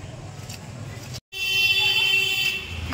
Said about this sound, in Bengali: সে কোথা থেকে হর্ন দিতে দিতে আসছে